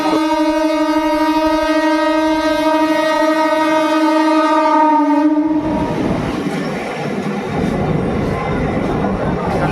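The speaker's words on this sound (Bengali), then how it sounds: "দেখাচ্ছি এক একটা ট্রেন আসছে" A train pulls into Sheoraphuli station, its loud sustained horn blaring for several seconds before giving way to heavy rumbling and rattling wheels as the carriages roll close by.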